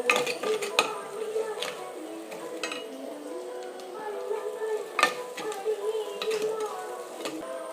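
Onions and shallots fry in coconut oil while a spoon stirs them, with steady clinks and scrapes against the pan over a soft sizzle, close and moderately quiet.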